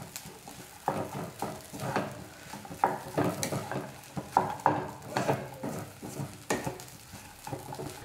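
Spoon stirring upma in a pan, soft scraping and light sizzling in uneven strokes with occasional clinks against the metal, close and moderately quiet, no one speaking.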